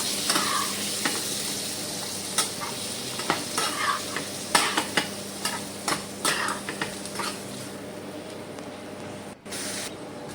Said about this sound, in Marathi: या हळद आणि मिठावर आपण कोळंबी आपल्याला थोडी परतवून घ्यायची आहे